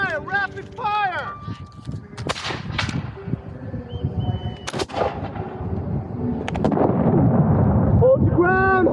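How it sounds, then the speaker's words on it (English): Black-powder musket volleys crack out in scattered sharp bursts during a Battle of Great Bridge reenactment skirmish outdoors, mixed with shouted commands and crowd noise. "Rapid fire."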